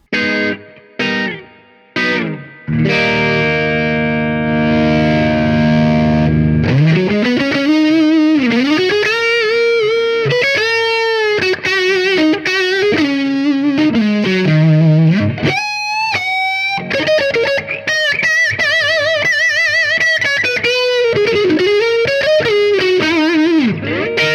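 A distorted electric guitar, an Epiphone Les Paul Standard 50s on an amp's Drive channel, plays sustained overdriven notes and bends, loud and saturated with a thick, gritty tone.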